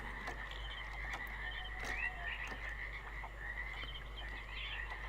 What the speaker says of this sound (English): Peaceful frogs chirping away in Channelwood.